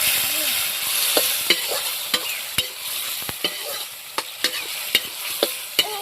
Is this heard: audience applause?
no